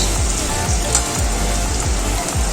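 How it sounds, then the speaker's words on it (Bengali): Onions go into a pan of lightly fried potatoes, and a loud, steady sizzle of hot oil fills the air with a dense crackle that hisses on continuously. "এইদিকে আলুগুলো হালকা ভাজা হয়ে গেছে, এবার দিয়ে দিচ্ছি পেঁয়াজ"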